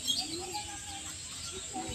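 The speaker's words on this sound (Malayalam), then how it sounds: "പിഞ്ച് പക്ഷികൾ ഉണ്ട് ഇതിനകത്ത്." Finches chirp faintly inside a zoo aviary at Mysore Zoo, small scattered tweets heard from a distance over a soft, steady ambient wash.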